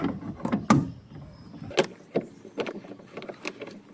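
A lug wrench works the spare tire bolt beneath a Perodua Alza, giving a series of sharp metallic clicks and ratcheting knocks at an irregular pace, close by with no talk.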